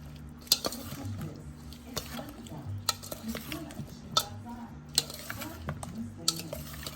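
Mango pickle with fenugreek and mustard powder stirred in a pan, soft scraping strokes with sharp clinks of the spoon against the vessel at irregular intervals over a low background hum.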